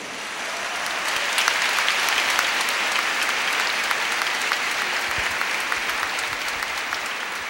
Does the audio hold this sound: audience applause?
yes